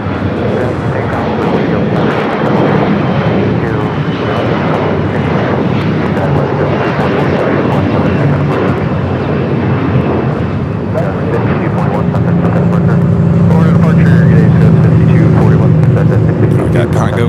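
A heavy airliner takes off at LAX, its loud jet roar building steadily over the whole stretch, with a deep engine rumble swelling near the end.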